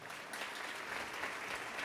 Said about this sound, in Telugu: కంటిన్యూ చేయనన్న వారు గట్టిగా చప్పట్లు కొట్టండి